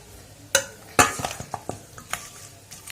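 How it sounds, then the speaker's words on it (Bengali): A ladle mixing Kashmiri chili, coriander and garam masala powders into meat in a pot, a few sharp metallic knocks followed by softer scraping and clinking strokes, close and alone. "আমি হাতা দিয়ে মাখালাম"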